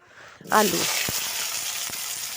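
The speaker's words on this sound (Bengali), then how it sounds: "তেজপাতাগুলো আমি একটু খুন্তি দিয়ে তেলের মধ্যে নাড়িয়ে চাড়িয়ে নিলাম" Hot oil bursts into a loud sizzle as bay leaves are stirred in, with a few sharp scrapes and knocks of a spatula as the frying hisses on.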